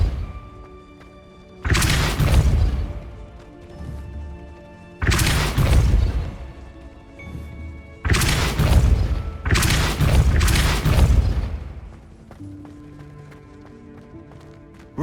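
Depulso force spell impacts in the Hogwarts Legacy video game: four heavy, booming blasts with rumbling tails, the last two close together, over quiet background game ambience.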